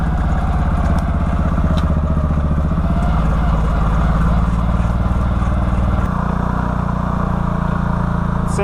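A 2013 Can-Am Maverick engine runs close and loud with a constant rumble, its hurt clutch adding a rattling clatter. The engine note shifts partway through.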